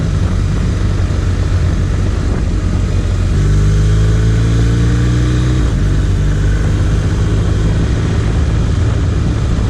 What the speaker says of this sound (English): It's just a beautiful engine.